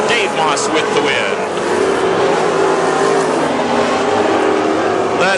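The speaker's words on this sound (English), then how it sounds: "About 3 more cars coming through for the checkered." WISSOTA super stock race cars roar past on the Princeton Speedway, a loud sustained engine drone with shifting pitch as the cars go by, an announcer talking over the noise throughout.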